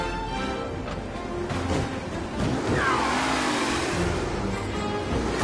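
Racing car engines roar and rev steadily in the Mafia Definitive Edition video game, a dense continuous drone that rises in a sweep partway through with no talk over it.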